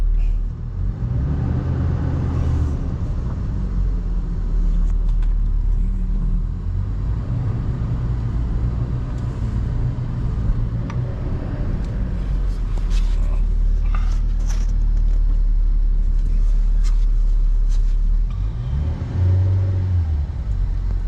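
A Toyota Innova that loses power when hot drives along on a test run, its engine droning and rising through gears with cabin rumble, while people talk occasionally over it.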